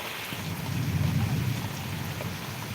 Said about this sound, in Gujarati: અહીંયા તો અત્યારે મોટાભાગના વિસ્તારમાં વરસાદ વરસી રહ્યો છે